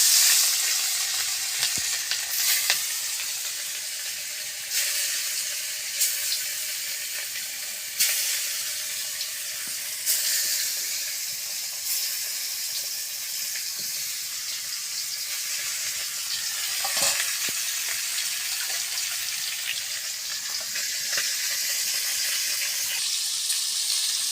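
Fish frying in hot oil in a pan in a village kitchen, a steady close hissing sizzle that runs throughout with occasional stirring clicks, and no one speaking.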